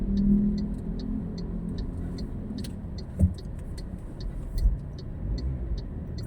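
A car pulls in to park at a school during Typhoon Uwan in Albay, with a steady engine and road rumble close by and a couple of faint thumps; no talking.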